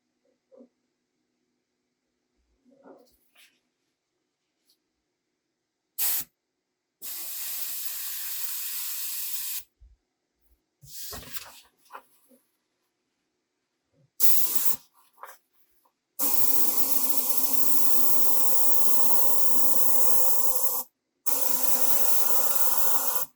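A Reaper Vex airbrush fed by an air compressor sprays in repeated bursts, a sharp close hiss lasting a few seconds each time, separated by quiet gaps with faint clicks and handling noises, no talk.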